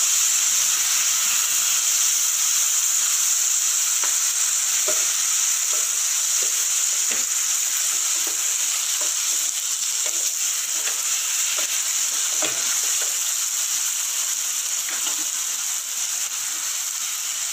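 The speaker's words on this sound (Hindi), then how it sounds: "अब देखिए हमारे अनियन हल्के हल्के ब्राउन होने शुरू हो गए हैं।" Onions fry and slowly brown in a pan for homemade pizza sauce, making a loud, continuous close sizzle and hiss with faint pops scattered throughout and no voices.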